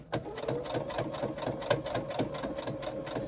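A sewing machine stitches through a slip pocket overlay on a bag, a rapid, steady mechanical chatter of needle strokes, quiet and close.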